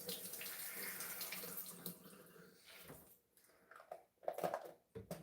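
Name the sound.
filling a soap bottle with tap water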